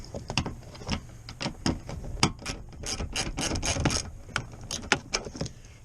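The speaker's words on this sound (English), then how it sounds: "go ahead and get your other wrench, just go to town on those." A ratchet wrench loosens nuts on a Ford F-150 rear window, its quick bursts of clicking pawl strokes coming close and loud in uneven runs, with no speech.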